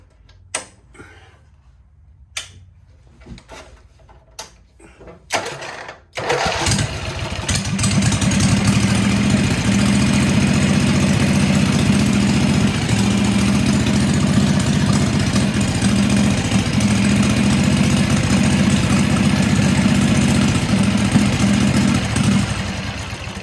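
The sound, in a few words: hot rod Wheel Horse tractor engine starting and idling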